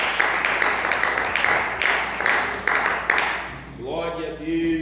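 A church congregation claps in praise during a Portuguese-language service, a steady rhythmic clapping that runs for a few seconds before stopping and giving way to a voice over room tone.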